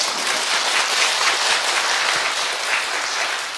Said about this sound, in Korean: 여러분들 박수 한번 치세요